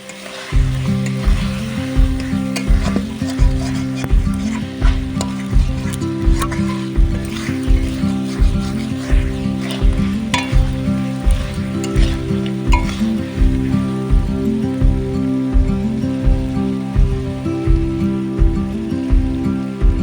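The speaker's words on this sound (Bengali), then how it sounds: "এই সাইডে আমি মাংসটা বেশ ভালোভাবে কষিয়ে ফেলেছি। আর কিছুক্ষণ কষিয়ে নিই" Chicken pieces being fried for curry in a pot over a wood-fired earthen stove outdoors: a loud, steady sizzle with regular knocking from stirring throughout, and no talking.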